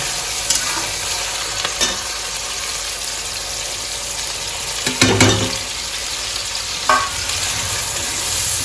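Spices such as turmeric and red chili powder frying in hot oil, a steady close sizzle with a few sharper stirring scrapes and clatters, no talk.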